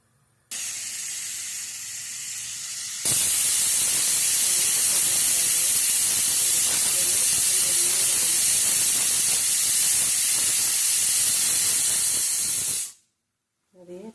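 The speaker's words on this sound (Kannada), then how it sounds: "ಕುಕ್ಕರ್ ಈಗ ಒಂದು ಸತಿ ಹೋಗ್ತು" A loud, continuous hissing blast of steam from a pressure cooker whistle, sustained for around ten seconds after a softer hiss, then cutting off abruptly.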